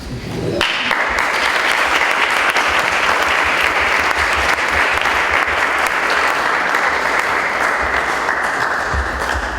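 An audience greets architect Jack Self with sustained, loud applause at a lecture, a dense even roar of clapping that starts abruptly and holds steady for several seconds without talk.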